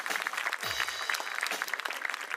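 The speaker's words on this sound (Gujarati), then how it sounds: "એકવાર જોરદાર તાળી તમારા બાળકો માટે પાડી લો યાર" A school annual-meet audience claps for the children, a dense, steady burst of applause from a crowd filling the hall.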